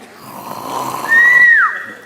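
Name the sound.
person snoring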